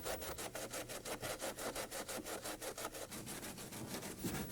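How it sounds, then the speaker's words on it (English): A helicopter side air scoop on a Rotorway Exec 162F kit being cut open with a hand saw. Steady rapid back-and-forth sawing strokes, close and loud, continuous throughout with no talking. "Cut an opening in the side air scoops as shown."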